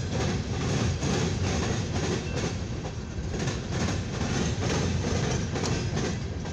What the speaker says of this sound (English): We got a southbound to an eastbound CSX full hopper train here on the siding track right here